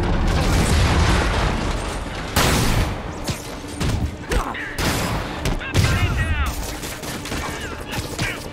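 Sable soldiers fire on Spider-Man in the video game Marvel's Spider-Man, loud rapid gunshots and bursts ringing out repeatedly amid booms and other game sounds throughout.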